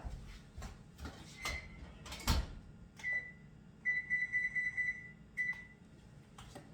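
An oven's control panel gives short, bright electronic beeps as it is switched on and set to 375 degrees: a single beep, then a quick run of six or so, then one more, following a few knocks and clunks of kitchen handling.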